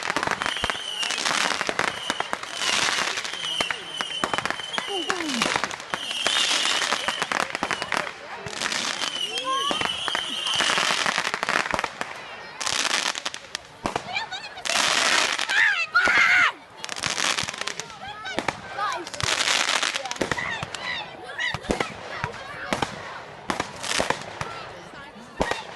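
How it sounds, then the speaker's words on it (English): Bonfire night fireworks burst and crackle in rapid, irregular volleys, loud and close, with sharp bangs and fizzing crackles; voices and crowd noise mix in between the explosions. "Fireworks. This is the fireworks."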